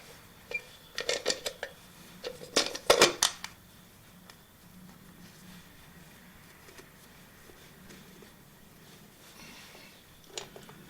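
Small screws being picked over and fitted into a side cover on a Yamaha DT250C motorcycle: a burst of light metallic clinks and ticks close by, then a long quiet stretch with one faint click near the end.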